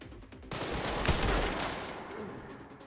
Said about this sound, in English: Is there more than one guy shooting at me?